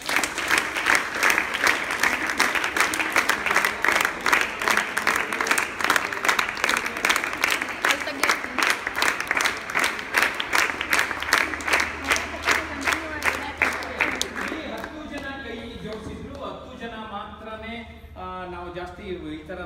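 An audience at a speaking-skills session for PUC students claps in loud, rhythmic unison, a fast even beat of many hands, then breaks into scattered looser applause as a voice begins speaking over it near the end.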